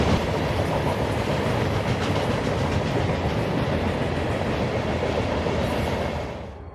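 Freight train K981, hauling ballast, rolls past at Maxville, Florida, loud and close with steady clickety-clack of wheels over rail joints, fading as it ends.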